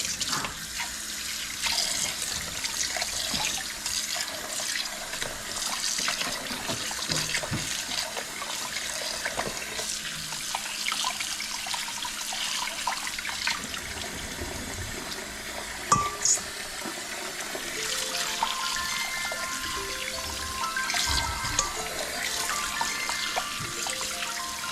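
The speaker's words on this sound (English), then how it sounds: "I'm going to drain it and wash it 2-3 times until my water is semi-clear." Soaked rice being washed for Jamaican-style rice and peas as tap water runs steadily into a sink, with splashing, gurgling and the occasional clink of a pot.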